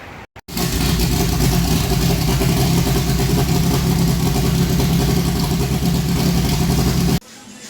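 A Honda CRX with a B22 stroker engine runs on a dyno, its loud, steady engine roar starting abruptly and droning continuously for several seconds before cutting off sharply, close and dominant with no talk.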